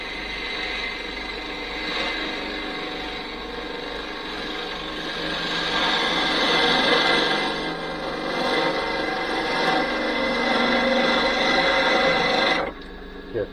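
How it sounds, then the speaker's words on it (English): A gouge cuts green wood spinning on a wood lathe, a steady close scraping and peeling rasp that swells in the middle and stops abruptly near the end. "you rub the bevel, bring it up and start making a cut"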